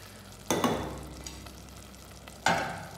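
A thick masala with cashew and coconut paste being stirred in a pan for Kerala fish biriyani, two distinct scraping stirs over a low, steady sizzle, close and without talking.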